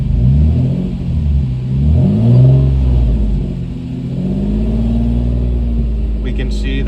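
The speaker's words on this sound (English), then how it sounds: "when I go to hold the engine at 2K RPM" A 3-liter car engine rises from idle and is held near 2000 RPM in a diagnostic test: a low, close rumble that climbs and sags in pitch before settling into a steady hum, with talking over it.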